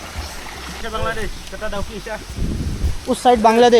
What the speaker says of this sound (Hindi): ओ, इस तरफ एक बड़ा झरना है भाई